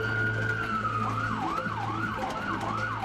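An emergency vehicle siren wails, holding a long steady tone before switching to a rapid rising-and-falling yelp, loud and continuous over a low engine rumble.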